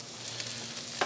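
Peppers and other vegetables fry in oil on a Blackstone griddle with a close, steady sizzle, and a short scrape of stirring is heard near the end.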